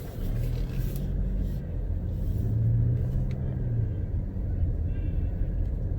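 Car driving in traffic near a baseball game, a steady low road rumble of the engine and tyres heard from inside the vehicle throughout.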